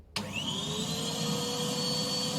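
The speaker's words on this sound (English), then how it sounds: "as you just heard, the Hoover is working" A Henry Hoover vacuum cleaner, just repaired, switches on abruptly and runs with a loud, steady motor whine and rushing airflow, heard close and alone.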